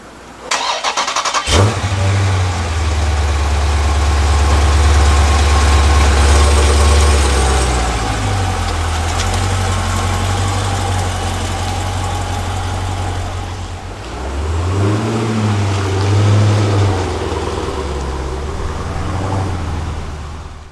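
A car engine starts with a sharp catch, then idles and runs at a steady, loud, low hum close by, easing off and rising again as the car is moved.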